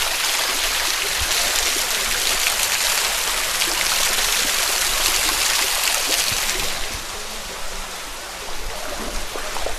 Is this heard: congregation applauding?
no